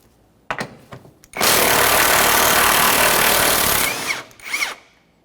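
Power tool spins off control arm mounting nuts on a 1994-1997 Honda Accord front suspension: a few brief taps and clicks, then a loud continuous whir lasting about two and a half seconds, followed by short bursts.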